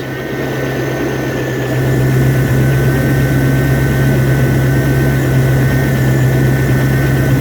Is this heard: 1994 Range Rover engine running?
yes